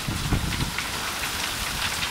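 Heavy storm rain pours down in Hungary, a dense, loud, continuous hiss of drops drumming on surfaces close by, with no voices.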